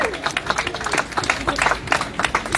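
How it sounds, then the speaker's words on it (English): A crowd at an NDIS rally claps and cheers briefly, the dense applause close and lively with a few voices mixed in. "Give yourself a round of applause."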